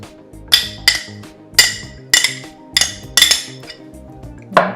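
A Greek salad of olives, red pepper, red onion and feta being tossed in a bowl, giving about nine crisp utensil clinks and scrapes in an uneven rhythm, close and fairly loud with no talking.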